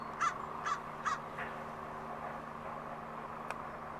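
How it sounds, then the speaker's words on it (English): A crow caws three times in quick succession, fairly close and clear, followed by quiet outdoor background with a faint distant hum. "There's a noisy crow."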